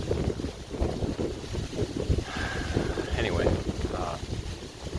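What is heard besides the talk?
wind blowing on the microphone outdoors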